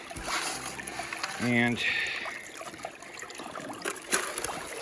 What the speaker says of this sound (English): we've got the sluice running,